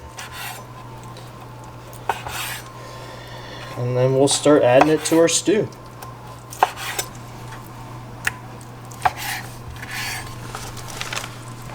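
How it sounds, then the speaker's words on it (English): A knife cubes venison steak on a cutting board for stew, with a short flurry of chopping and scraping in the middle and scattered taps, under someone talking. "then we're just going to cube it all up, make it a little cube steak, make it a little bit smaller chunks"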